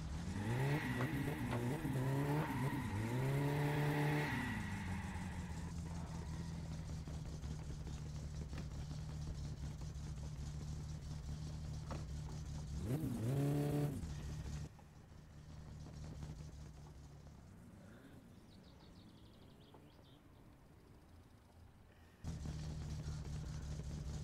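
A turbo car with its exhaust removed races in a driving simulator game, revving hard through rising gear shifts, then settling into a steady drone, with another sharp rev burst midway. There is no speech.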